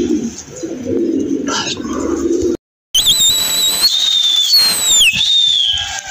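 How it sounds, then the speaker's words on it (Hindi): Domestic pigeons coo softly and their wings flutter nearby, then several sharp sliding whistles sweep across the scene, with a brief silent gap partway through. "बिठा दिए कबूतर"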